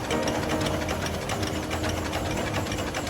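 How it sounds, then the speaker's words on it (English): Victorian-era steam engines powering a sugarcane distillery in Madeira keep up a steady, dense mechanical rhythm with rapid repeated knocks, loud and continuous throughout with no voices. "Locals call it the disco beat of the steam engines."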